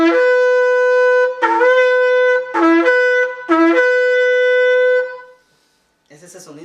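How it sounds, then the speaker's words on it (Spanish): Shofar sounding the shevarim call: three medium-length ram's horn blasts in a row with a bright, buzzy harmonic tone and sharp attacks, loud and close and played alone, then a short pause and a brief breathy noise at the end. "Ese es el sonido shevarín, que son 3 sonidos iguales a un tequía."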